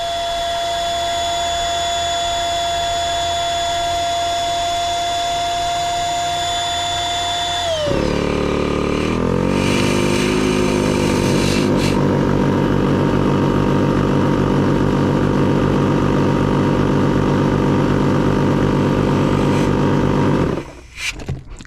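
A battery-powered electric air pump inflates a boat's air deck, starting with a steady whine, then shifting to a loud, labored buzzing drone as pressure builds before cutting off near the end.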